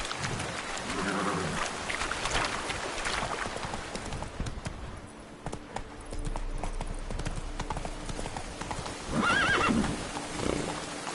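A horse in The Witcher 3 gallops with rapid, rhythmic hoofbeats and lets out a loud whinny near the end, all close and clear over faint game ambience.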